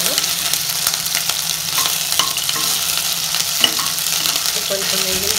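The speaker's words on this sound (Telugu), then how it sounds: "ఇప్పుడు ఇవి వేయించేసుకుంటున్నాను." Cinnamon and cardamom frying in a pan for coconut milk rice, a constant loud sizzle with intermittent scraping and stirring clicks from a utensil, no voices.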